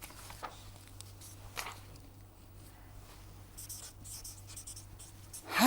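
Marker or pen strokes on paper or a board while sketching, with short scratchy bursts spaced apart and a quicker flurry near the end, faint over a low steady hum.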